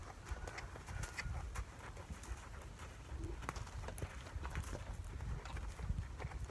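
A horse on a lunge rope moves around its handler outdoors, giving soft, rhythmic hoof thuds at a steady pace with some faint bird calls in the background.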